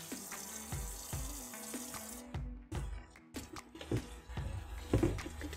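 A kitchen sink tap runs water steadily into the basin, loud and close, with splashing and clattering as dishes are rinsed.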